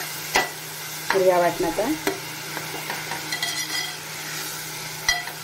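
Green masala paste is stirred in a frying pan for a surmai fish curry, with soft sizzling and a few scraping and clinking strokes of the spoon, while a voice speaks briefly.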